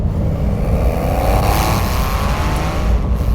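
Porsche 911 GTS with PDK gearbox accelerating on open road, its engine note rising steadily and loudly over continuous road and wind noise.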